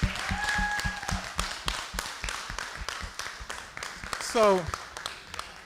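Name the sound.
audience applause for Dr. Shatnam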